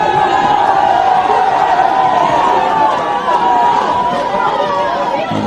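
Young supporters cheer on their side at a Gibraltar Rock Cup quarter-final football match between Manchester 1962 FC and St. Joseph's FC, a steady loud crowd chatter and chanting filling the whole stretch.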